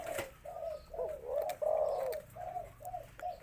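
A spotted dove coos in a series of soft, low, rounded calls, close by, with faint chirps from other birds in the background.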